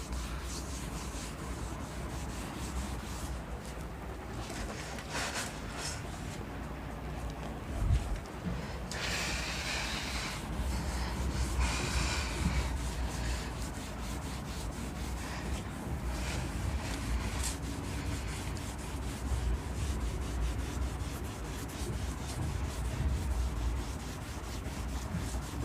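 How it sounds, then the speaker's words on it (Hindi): A duster rubbing writing off a classroom board during a maths lesson, a long continuous scraping rub with uneven strokes, fairly close and steady, with no talking. "चलो अभी मैं इसको रब कर देता हूँ।"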